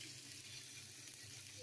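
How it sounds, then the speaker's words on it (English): Cheese bites frying in a pan give off a steady, faint hiss of sizzling oil, continuous and alone without voices. "Sizzle."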